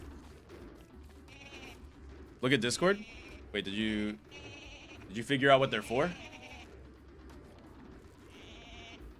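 Volt Goat in a video game gives several short, nasal bleats in quick bursts, close and fairly loud, with people talking around them.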